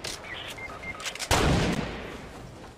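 A single sniper rifle shot in a Fortnite match cracks out loudly near the middle, following a few faint game tones and clicks, then decays into a short fading tail.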